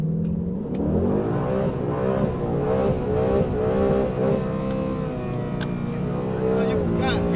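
A Ford Mustang Foxbody drag car engine roars steadily and loudly after a cold start, its pitch rising and falling through revs in a continuous, close, throaty drone.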